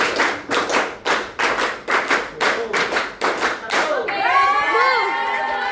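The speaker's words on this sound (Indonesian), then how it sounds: "Tepuk 5 3 kali." High school classroom students clap in unison in a rhythmic five-beat pattern, sharp bursts of loud claps repeating evenly, then cheering and excited voices take over at the end.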